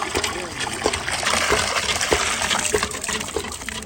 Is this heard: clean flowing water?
yes